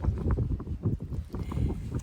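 Strong wind buffets a campsite around a canvas tent, coming in loud, irregular gusts that thump against the microphone, with no clear voices.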